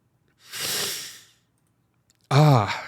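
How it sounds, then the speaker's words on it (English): Two heavy exhalations through the nose: a long airy breath first, then after a pause a louder, voiced snorting sigh. "I'm sorry about all the extra breathing I'm doing"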